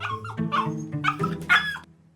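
A dog whimpers and yips in a few short, close, high-pitched bursts with no talk.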